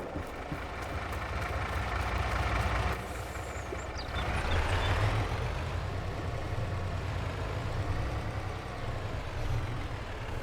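A truck engine idles in Farm Sim 22 with a low, steady diesel rumble, close and constant, with a shifting higher whine partway through.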